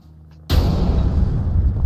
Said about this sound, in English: Oh, you blew up in the downstairs vault again.